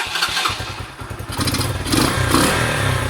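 A Sinnis SC125 motorcycle with a jetting problem revs hard, its engine stumbling and popping before rising into a rough, loud roar, close up with a few clattery thumps and no talking.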